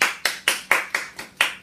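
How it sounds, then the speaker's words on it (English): Applause welcoming a chef onto a show: seven crisp, evenly spaced claps in a brisk steady rhythm, close and clear, from one person or a small group. "So let's bring her on out here. Give her a round of applause."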